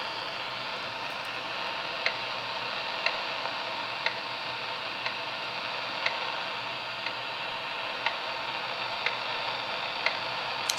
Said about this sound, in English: So you can hear the once per second pulse coming out of this.